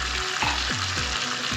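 Green chilli paste, made from four or five fine green chillies, hits hot oil for a chicken white karahi and sets off a steady, loud sizzle. Frying crackle holds throughout, with low stirring thumps and no talk.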